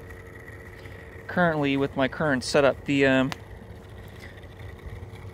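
A 3D printed Chrysler siren replica idling with a misaligned dog bone joint, its spinning rotor giving a low, steady engine-like hum and scraping beneath someone speaking in the middle of the clip.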